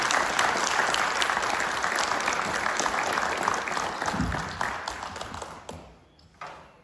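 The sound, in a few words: audience applause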